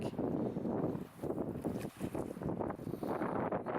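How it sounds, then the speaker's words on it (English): Gusty wind buffeting the microphone at a campsite on Heritage Lake in the Boundary Waters, in loud, roaring bursts with brief lulls between them; no voices. "This side's a little windy."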